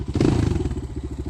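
A Kovi 250 Start motorcycle with a 172 engine rumbles close by on dry sand, its low, rapid, pulsing idle sputtering steadily with a few clattering thumps at the start.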